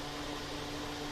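A household air cooler fan running, a steady, even broadband whoosh with a faint low hum, constant and close throughout with no talk.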